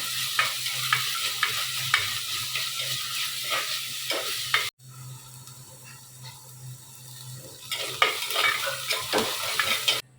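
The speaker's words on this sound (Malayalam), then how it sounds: "ഞാൻ ഇഞ്ചിയും വെളുത്തുള്ളിയും പച്ചമുളകും കൂടെ ചതച്ച് വെച്ചേക്കുന്നത് ചേർത്തിട്ട് നന്നായിട്ട് മൂപ്പിച്ചെടുക്കുക" Crushed ginger, garlic and green chilli fry with fenugreek and curry leaves in a pan over a village wood-fired stove. The oil gives a steady close sizzle with repeated scraping stirs, broken by a brief lull midway.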